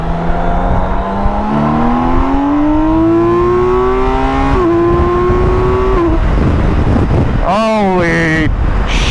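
BMW K 1600 B motorcycle accelerating on a highway, its engine pitch climbing steadily through the gears, with a brief dip at a shift and a second sharp rise near the end, loud and close under heavy wind buffeting.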